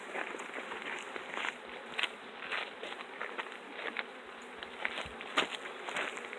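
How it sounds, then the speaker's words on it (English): A dense swarm of Africanized honey bees buzzing close by while being shaken during requeening, a continuous high hum with scattered crackles and light rustling, no voices. "Shake the bees."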